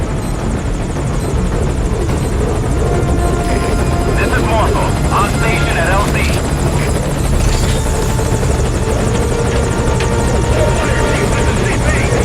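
A military helicopter in the Metal Gear Solid video game gives off a loud, constant rotor roar and whine that fills the whole stretch without letup, with voices speaking over it.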